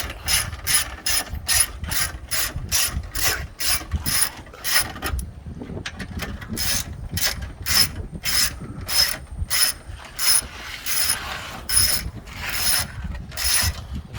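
Rapid ratchet-wrench clicks in repeated bursts while bolts are tightened on a Lexus ES330 starter, close and loud, with a short pause mid-way before the ratcheting resumes.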